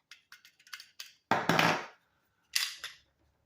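A Smith & Wesson M&P9 Shield Performance Center 1st gen pistol being checked clear: quick light clicks of the empty magazine, then a loud metallic slide rack and a second sharp snap, close up with no talking.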